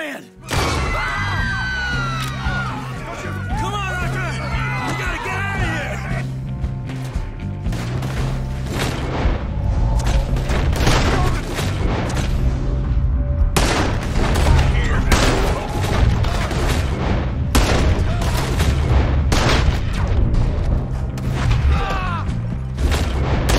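Gunfire in the Red Dead Redemption 2 video game breaks out in a loud, rapid series of sharp shots and booms over music, with a voice speaking briefly near the start.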